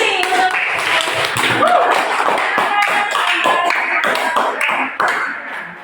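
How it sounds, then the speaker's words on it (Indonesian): Classroom applause for a student presentation group, with a dense burst of hand clapping that sounds close and lively, then thins and tails off near the end, with voices mixed in. "Kita aplaus lagi."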